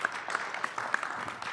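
Scattered clapping from a small audience at a municipal council special meeting, faint and short with a few distinct hand claps over roughly a second and a half.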